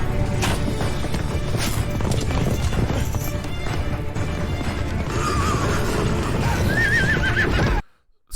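Horses gallop with rapid clip-clop hooves and loud whinnies during a battle charge in a Game of Thrones season 3 episode, a dense roaring scene with dramatic music, ending in sudden silence.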